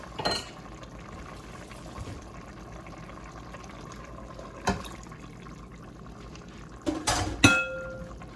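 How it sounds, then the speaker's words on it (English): Water poured into a simmering pot of Jamaican brown stew chicken, with a low liquid hiss and bubbling, then a few sharp pot clatters near the end. "try not to throw the water on the meat, throw it to the side"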